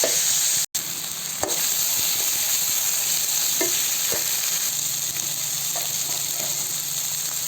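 Chicken gravy with tomato frying in a pan, a loud, dense sizzle running throughout, broken by a few sharp spoon scrapes and one momentary cutout near the start, with no speech.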